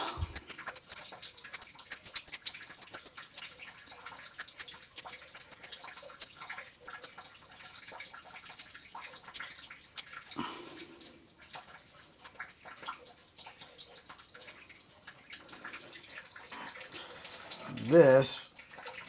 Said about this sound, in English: And pour into your mold.